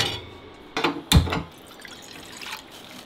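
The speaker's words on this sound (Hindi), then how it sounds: "इसमें तो बस गर्म पानी डालना हूँ।" Hot water is poured into a bowl of oats late at night, a short splashing gush followed by a brief second pour, then quiet room tone, with nobody speaking.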